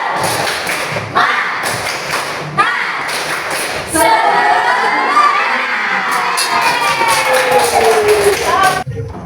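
A classroom of children does a rhythmic clapping chant, with sharp claps and thumps at the start before the group breaks into loud excited shouting and cheering that carries on to the end.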